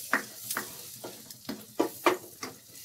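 Deggi chili powder stirred and roasted in a pan, soft sizzling with a series of scraping spoon strokes in an uneven rhythm, close and fairly quiet.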